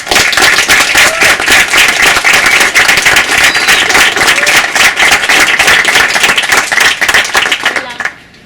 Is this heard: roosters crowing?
no